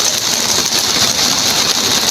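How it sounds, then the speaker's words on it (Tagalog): Heavy rain pours with gusting wind in a flooded riverside area, a dense, loud, unbroken roar of falling water with no talk. "patuloy ang lakas ng ulan at hangin"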